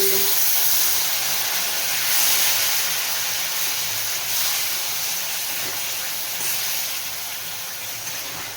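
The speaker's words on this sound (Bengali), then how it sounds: "এবার অল্প অল্প করে জল দিয়ে মিশিয়ে" Water is added a little at a time to a simmering soybean kofta curry and stirred in, producing a steady, close hiss of steam and liquid throughout.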